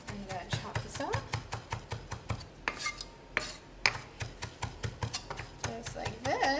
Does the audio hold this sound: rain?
no